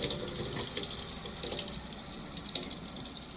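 Water poured by the teaspoon into a mixing bowl for arctic-themed baking with powdered milk, heard as a steady close trickle and splash running the whole time, with no talk over it.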